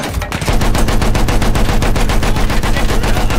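Rapid automatic gunfire in the video game Battlefield 1, a loud, sustained burst of closely spaced shots after a brief opening moment.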